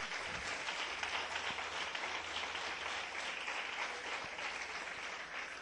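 A church congregation applauding the Lord during a Portuguese-language sermon, a broad steady wash of clapping from many hands, moderately distant and sustained, with no speech over it.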